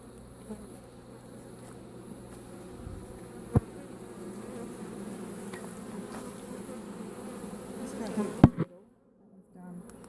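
A dense swarm of honeybees buzzes steadily and loudly at close range during a beehive inspection, with a few sharp knocks and handling sounds, and a brief lull near the end.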